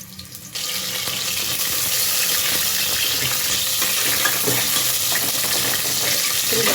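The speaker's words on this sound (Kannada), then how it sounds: "ಈಗ ಅದಕ್ಕೆ ಆನಿಯನ್ ಕಟ್ ಮಾಡಿರೋ ಆನಿಯನ್ ಹಾಕ್ಕೊತಾ ಇದ್ದೀನಿ, ಹಾಗೆ ಬೆಳ್ಳುಳ್ಳಿ ಕೂಡ ಹಾಕ್ತಾಯಿದ್ದೀನಿ, ಮತ್ತು ಶುಂಠಿ ಕೂಡ ಹಾಕ್ತಾಯಿದ್ದೀನಿ." Chopped onion, garlic and ginger roasting in a pan for a buttermilk curry, giving a steady, close hiss and sizzle that starts up after a short quieter moment and runs on alone.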